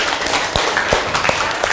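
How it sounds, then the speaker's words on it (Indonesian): A classroom of students gives a short burst of applause, with scattered claps and a few sharper slaps standing out over the noisy room. "Kita beri tepuk tangan"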